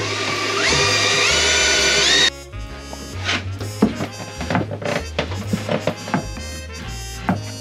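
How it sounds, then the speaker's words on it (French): A power drill bores into a multifunction table to fix it to wooden battens, a loud steady whine for about two seconds that stops abruptly, followed by clattering handling and knocking noises. "On perce la table. Ouais. Pour la fixer dans les tasseaux."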